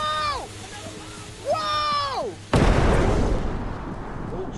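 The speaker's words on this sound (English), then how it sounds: "Is that a bomb?" Explosion in the video game Content Warning, a sudden loud blast that bursts in after a couple of descending whistling tones and then decays into a rumbling wash of noise.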